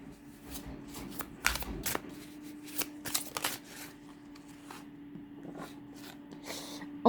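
Tarot cards shuffled for a nine-card spread riffle and flutter in quick repeated bursts close by, with a faint steady hum underneath.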